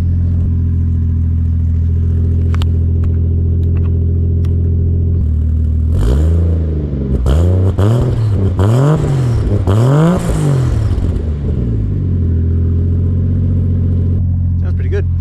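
A car with a 1JZ engine and custom exhaust revs hard several times in quick succession, the loud, close engine note rising and falling over a steady idle rumble.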